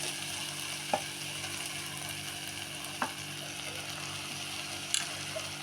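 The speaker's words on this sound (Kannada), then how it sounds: "ಮೆಂತ್ಯ ಸೊಪ್ಪು ಹಾಕಿ ಸ್ವಲ್ಪ ಎಣ್ಣೆಯಲ್ಲಿ ಹುರ್ಕೊಂಬಿಟ್ಟು" Fenugreek leaves fry in a little oil for menthya bath, a faint, even sizzle with occasional sharp stirring clicks.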